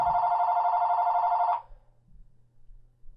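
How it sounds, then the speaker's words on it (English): A telephone rings indoors, a steady loud electronic trill lasting about a second and a half before cutting off, followed by faint low room noise. "And the phone's ringing."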